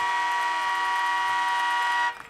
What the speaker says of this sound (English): Man, that train horn